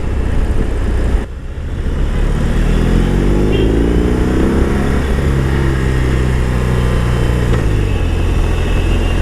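A 2020 BMW R18 cruiser's boxer engine drones steadily under heavy wind noise while riding, with a brief dip and then a rising rev through the gears before settling into an even cruising rumble.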